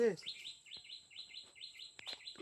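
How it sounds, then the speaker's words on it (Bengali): Bright, repeated bird chirps arrive in quick rhythmic bursts in the Sundarbans, with a brief voice at the very start and a few soft knocks underneath. "কত সুন্দর পাখির ডাকগুলো"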